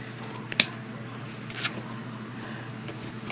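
Scissors trimming ribbon on a poof-and-ruffle Halloween wreath: two quick, close snips about a second apart over a quiet room background.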